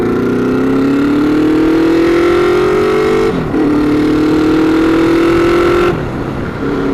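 A Honda Nighthawk motorcycle is ridden on the road, its engine loud and close as it pulls through the gears with rising pitch, dipping at two brief shift points before climbing again.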